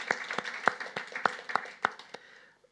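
A few audience members at a Norwegian-language conversation event clap in an evenly spaced rhythm for about two seconds, the claps quickly fading out.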